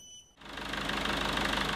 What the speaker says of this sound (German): müsste jetzt den Motor starten